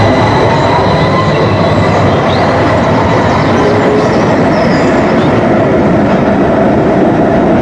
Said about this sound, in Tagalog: Paalis na uwi ng tren.